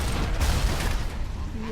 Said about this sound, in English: Oh shoot, I think that's a turret.